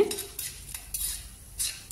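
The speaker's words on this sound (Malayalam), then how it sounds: "ലോ ഫ്ലെയിമിൽ വെച്ച് വേണം കേട്ടോ നമ്മളിത് വറുത്തെടുക്കാൻ" Lentils and mustard seeds roasting in oil over low flame for a drumstick leaf pickle, heard as intermittent metallic scrapes of a spoon against the pan, close and moderately loud.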